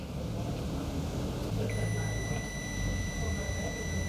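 A multimeter on continuity mode gives one sustained high-pitched beep as its probes touch a wire pair of a stepper motor, starting partway through and holding steady over low room hum.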